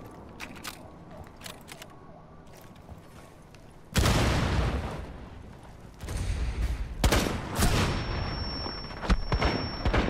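Gunshots crack out in Rainbow Six Siege, first quiet scattered pops, then loud abrupt bursts of fire around the midpoint and toward the end, with faint voices in the background.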